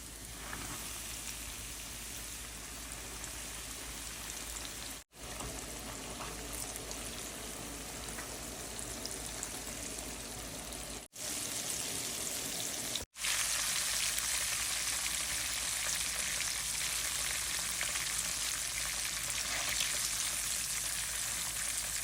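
Chicken frying in hot oil at high heat makes a steady, dense sizzling hiss. It runs almost continuously, with three brief dropouts, and grows slightly louder after the midpoint. No one speaks.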